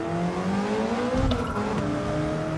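Game car engine in Gran Turismo 7 pulling away after the clutch is let out, a steady droning rev with rising engine tones lasting throughout, loud and continuous with no talk over it.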